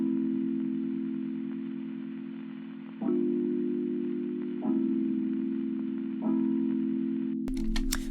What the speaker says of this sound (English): it's the Childhood Toy Celeste